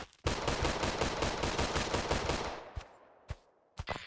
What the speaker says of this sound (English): Glock 17 without the switch.